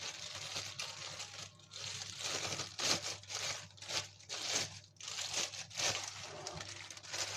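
Crinkling and rustling of a plastic zip-lock freezer bag being handled and turned over in a kitchen, continuous irregular crackle with a steady low hum underneath.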